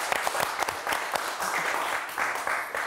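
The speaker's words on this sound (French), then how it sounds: "on peut encore l'applaudir, Enzo Real." Steady audience applause for a guest on a live evening show, many hands clapping together in a dense, continuous patter that holds for the full three seconds.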